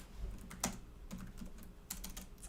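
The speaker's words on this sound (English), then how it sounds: "Let's see if I can type that back to that person." Quick bursts of typing on a computer keyboard, with a few sharper key clicks spread across a couple of seconds, close up and moderately quiet, with no talking.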